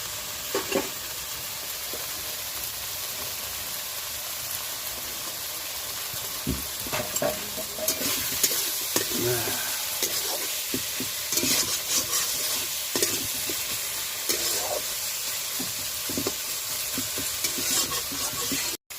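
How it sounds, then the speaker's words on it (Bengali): Tomato masala fries and is stirred for a homestyle desi chicken egg curry: a loud, continuous sizzle with frequent scraping stirs and occasional louder bursts, running steadily with no voices. "মশলাটা পুরো কষে এসছে টমেটোটা দিয়ে"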